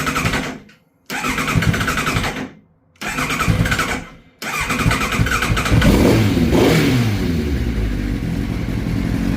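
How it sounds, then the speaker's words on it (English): A Kawasaki ZX9R motorcycle just out of two years' storage cranks over in several short starter bursts separated by pauses, then catches and settles into a loud, steady running idle with a few throttle blips. "Took a little bit to start there, didn't it?"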